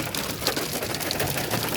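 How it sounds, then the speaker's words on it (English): Hail patters on a van, a dense, even rattle of small ice hits that stays close and fairly quiet throughout, with no talk. "It started hailing before we even got in the van."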